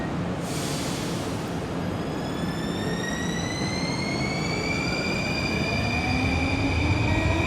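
Warsaw metro Inspiro train pulling out of Natolin station, a steady loud rumble with rising whining motor tones that climb in pitch as it accelerates, continuous throughout.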